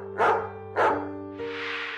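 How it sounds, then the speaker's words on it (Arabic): A dog gives two loud, close barks in quick succession, followed by a short breathy noise, against a steady low background hum. "وجد الكلب يصرخ في الخارج وقد تلطخت أنيابه"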